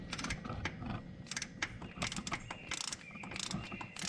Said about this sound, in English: you're gonna need a 12 millimeter socket on a 3/8 ratchet or 1/4 inch